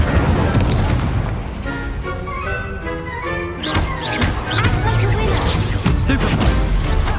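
Fiery spell blasts cast in Hogwarts Legacy combat, booming and crashing over a dense, continuous game soundscape with layered impacts throughout.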